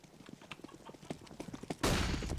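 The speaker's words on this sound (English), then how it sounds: "we're rudely interrupted by the sound of horses running up middle" Rapid running footsteps in CS:GO on the Cache map that resemble galloping horses: a quick, irregular clatter of steps that grows louder, then breaks into a loud, dense burst of noise near the end.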